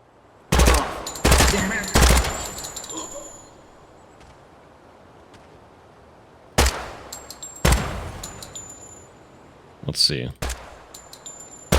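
Rifle shots fired during a 5.56 and 30-06 weapons test, sharp loud single cracks in spaced groups of three and then two, each with a ringing tail, followed by a muffled thud, with brief talk between.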